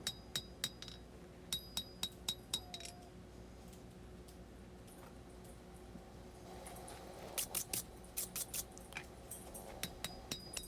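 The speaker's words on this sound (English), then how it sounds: "Still working in the bevels with the big hammer." Bright metallic clinks ring out as a big hammer strikes hot steel, working knife bevels on an anvil, struck in quick rhythmic bursts with a pause between them, faint and close.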